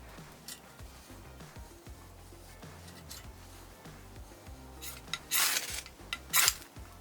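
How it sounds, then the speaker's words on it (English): An Ontario Black Bird SK5 knife shaves thin curls from wet wood for a feather stick, giving quiet, repeated rasping scrapes close up, with a few louder bright scrapes near the end. "The idea here is to shave the wood as thin as possible so it can light easily using a ferro rod."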